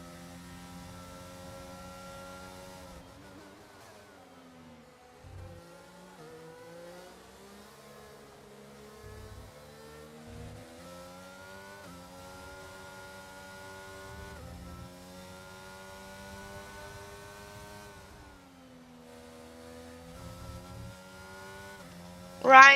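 Formula 1 race cars in the F1 22 racing game, their engines revving and shifting through gears at a steady mid-level, with brief dips between pulls and no talking.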